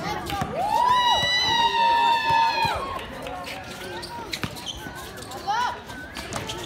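Crowd noise at a women's 3x3 basketball game: cheering voices and whistles mixed with sneaker squeaks and a commentator talking over the court action.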